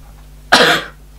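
A single short, sharp cough close to the mic, fading quickly into quiet.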